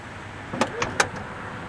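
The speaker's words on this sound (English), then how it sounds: "Ramp will go up. The van will also come out of its kneeling position, and the door shuts automatically." An automatic sliding door and wheelchair ramp on a 2009 Dodge Grand Caravan SXT minivan, giving three short mechanical clicks and thumps in quick succession over a faint steady background, with no talk.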